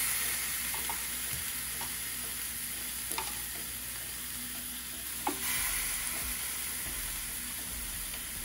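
Filet mignon fillets laid onto a hot Ninja Foodi Grill, a steady loud sizzle and hiss of searing meat throughout, with a few faint clicks and taps of handling, no talking.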